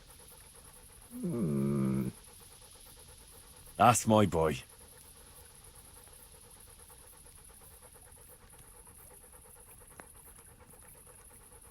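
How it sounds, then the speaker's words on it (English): A dog panting in the medieval role-playing game Kingdom Come: Deliverance, a short burst of quick, close breaths followed moments later by a brief spoken line, then quiet ambience. "There's the good doggy."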